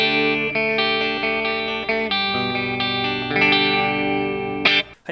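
Clean electric guitar played with a BOSS JB-2 Angry Driver overdrive pedal switched to bypass, sustained chords ringing bright and close for about five seconds with a touch of chorus-like shimmer, no voice over it.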